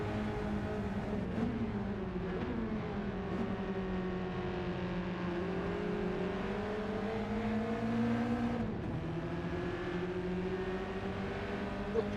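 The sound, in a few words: raspy race car exhaust in a racing video game, Mazda Cup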